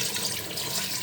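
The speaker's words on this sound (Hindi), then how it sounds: "है हमने इसमें पानी डाल लेंगे" Water pours steadily into a pressure cooker while Batair is being prepared, making a continuous close splashing rush that fills the short moment with no talk.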